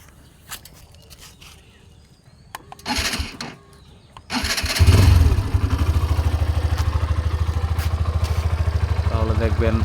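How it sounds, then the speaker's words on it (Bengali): A Hero Xtreme 125 motorcycle, 125 cc, is started: a few scattered mechanical clicks and a short whirr come first, then the engine catches and settles into a loud, steady, rapidly pulsing idle close by. "এরপর যদি আপনাদেরকে আমি বাইকটা স্টার্ট দিয়ে দেখাই"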